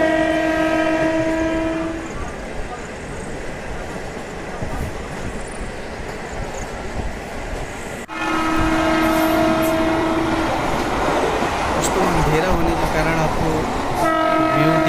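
Dildarnagar–Mughal Sarai passenger train (03641) running from Dildarnagar Junction toward Zamania in India, a loud continuous rolling rumble with long horn blasts at the start and again later.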